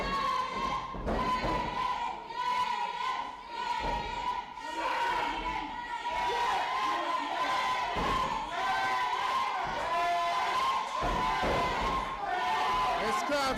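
A pro wrestling crowd at a live show reacts in a constant roar of cheers and shouts, with occasional thuds from the ring, while commentators talk over it.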